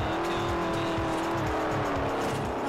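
A car drifts on gravel in the Forza Horizon racing game, with a steady droning engine and rough tire scrubbing that continue loud and close throughout.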